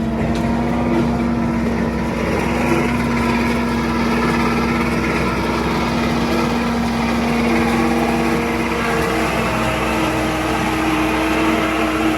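A tractor engine runs continuously at a steady idle-like drone while cutting corn silage in a field, loud and close, with no speech over it.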